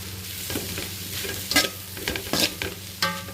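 Vegetable fried rice being stirred in a hot pan, with repeated scraping strokes of a spatula over a steady low sizzle, close and clear with no voices.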